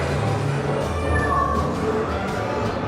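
Cats meow on a street in Liverpool, their cries faint and blended into a dense, steady wash of outdoor noise.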